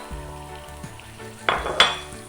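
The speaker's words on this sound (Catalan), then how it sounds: "Amb la ceba ja ben dauradeta hi tiraré els 100 grams de pebrot que havia separat." Chopped peppers tossed into a pan of browned onion, with clinks from a pan and utensil followed by a sudden burst of sizzling frying, close and loud, with no voices.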